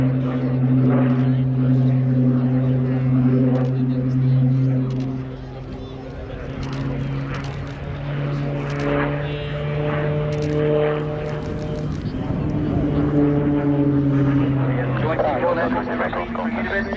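Propeller aircraft flying at the Cosford Airshow, a steady droning engine tone with strong harmonics that shifts in pitch as it passes, continuous and fairly loud under a public-address commentator's voice.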